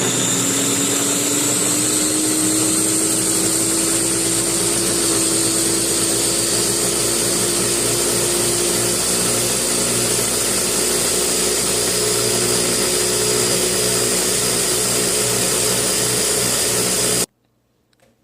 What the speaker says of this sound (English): And then you blend it up.